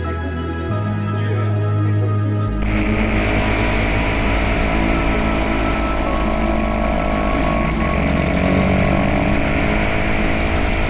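An engine revs hard with throttle blips, running loud and close, jumping to a harsher, higher roar partway through and holding there before a further shift near the end.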